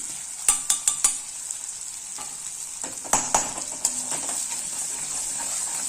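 Green chilli paste frying in a pan with salt and turmeric, a bright continuous sizzle punctuated by several sharp spoon taps and scrapes against the pan, close and fairly loud.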